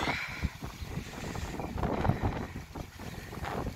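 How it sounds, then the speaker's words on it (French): Strong storm wind buffets the microphone in a continuous low rumble with surging gusts, loud and close throughout, with no voices. "Tempête, on dit que le vent chasse la pluie"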